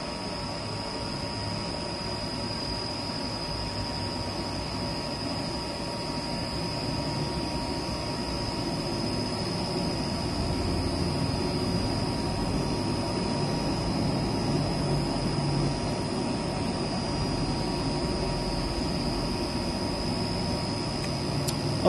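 Karvil 6000L industrial ribbon blender for powder and granule mixing running at half speed, a steady broadband motor roar with a constant high whine, continuous and unchanging throughout.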